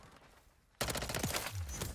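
Rapid automatic gunfire from a Striker 9 submachine gun in Call of Duty: Modern Warfare III erupts suddenly after a quiet lead-in, continuing as a loud, dense, crackling burst of shots.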